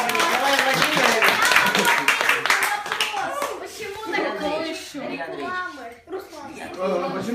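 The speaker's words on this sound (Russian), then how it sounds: "Похлопаем." Audience applauding a show's main sponsor, steady loud clapping from a crowd that carries on for several seconds while voices talk over it.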